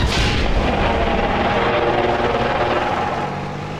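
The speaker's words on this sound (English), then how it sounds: "The anti-tank gun doing its best to somehow stop this beast before it reaches my infantry" In the Graviteam Tactics battle game, an anti-tank gun fires at a T-34 tank: one heavy report at the start gives way to a long, low rolling rumble that slowly fades, with no voices.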